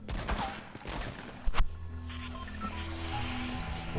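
Semi-auto pistol shots in Fortnite sound as a cluster of sharp cracks early on, then a louder report, followed by a calmer stretch of steady tonal game sound.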